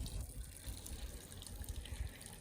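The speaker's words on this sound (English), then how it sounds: "First bushwhack waterfall." Small waterfall in a forest along the Ozark Highlands Trail, a steady rushing splash of falling water that holds an even level throughout without pauses.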